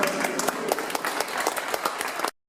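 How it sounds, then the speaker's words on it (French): Stage-show audience clapping in a public hall after a hypnotism act, a lively burst of many hands with distinct sharp claps in the texture, continuing steadily then cutting off abruptly. "on les applaudit encore une fois"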